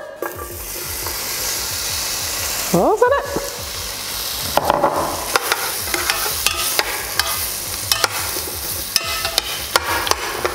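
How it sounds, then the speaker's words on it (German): Cervelat sausage and onions sizzle steadily in a hot pan while a utensil stirs and scrapes, with occasional knocks against the pan; a voice speaks briefly. "Als erstes tun wir Cervelat und Zwiebeln einfach anbraten."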